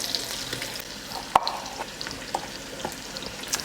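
Butter, onion and garlic fry in a pan with a soft continuous sizzle, broken by scattered clinks and scrapes of stirring, one sharper knock early on.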